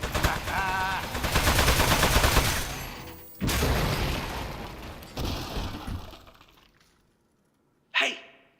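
Rapid bursts of video-game gunfire, loud and dense, run for several seconds, then thin out and drop to near silence before a sharp closing blast.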